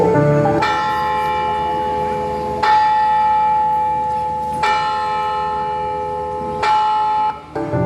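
A church bell tolls slowly, each strike ringing out loud and bright with a long humming decay before the next, four strokes in all.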